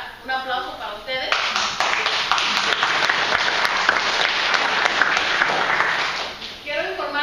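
Audience applause at a community meeting in Milwaukee on licences for Wisconsin, a loud burst of many hands clapping that fills several seconds, with speech before and after it.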